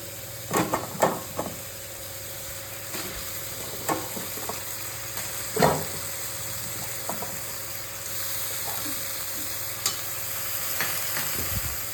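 Spices cooking down in a pan for a banana flower curry, a soft sizzle under intermittent sharp clacks and scrapes of stirring, with the boiled, drained banana flower tipped in partway through; no voices.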